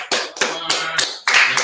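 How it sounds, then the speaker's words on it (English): A handful of people clapping at a gathering for the brothers of Hebrew Academy, four or five sharp, close claps in a short, uneven burst. "Give the brothers in Hebrew Academy a hand."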